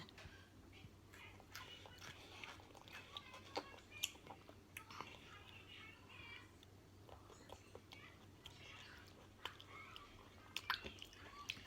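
A pet Swedish vole nibbling and chewing rice, with faint, rapid crunching and gnawing clicks heard close up at low volume over a soft background hum, and quiet whispered talk now and then.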